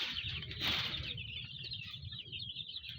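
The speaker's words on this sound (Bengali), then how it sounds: "এই যে দেশি মুরগির বাচ্চা" Native chicks and chickens on a farm in Buraidah, Al-Qassim, Saudi Arabia, with busy clucking and chirping over a low rustle of movement and brief wing flapping, moderately close.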